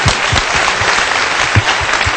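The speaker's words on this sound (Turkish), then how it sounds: "O zaman bir alkış üretmeye." A studio audience on a Turkish morning TV show claps steadily throughout, a dense, loud, even wash of applause with individual claps faintly audible inside it.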